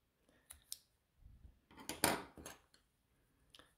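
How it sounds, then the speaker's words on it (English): Scissors cutting yarn during a crochet pillow project, giving a few quiet, close metallic snips and clicks, with a louder cluster of snipping in the middle. "we cut our yarn."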